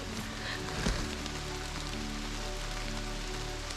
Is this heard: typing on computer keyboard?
no